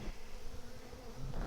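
Honey bees from a three-deep nuc hive being transferred into a double-deep ten-frame hive fill the air with a steady, dense buzz, close and continuous throughout, with no talk.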